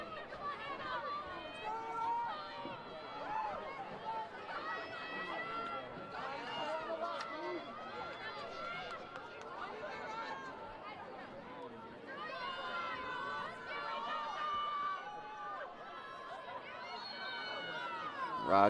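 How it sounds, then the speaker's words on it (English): Spectators filing into the stands at a girls' lacrosse game fill the air with a steady murmur of overlapping chatter, with nearer voices rising now and then over the general hubbub. "I think people are still filing in, Joel. This crowd is impressive."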